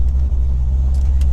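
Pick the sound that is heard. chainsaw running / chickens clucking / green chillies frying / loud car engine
loud car engine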